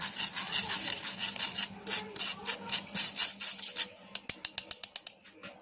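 Flour and milk powder are sifted through a sieve for a fruit cake, making a rhythmic scraping and rubbing that gives way to a series of sharp, evenly spaced taps on the sieve near the end.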